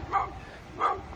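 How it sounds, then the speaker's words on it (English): A dog on a walk barks twice, short sharp yaps spaced under a second apart, fairly close over quiet outdoor background. "What are you barking at?"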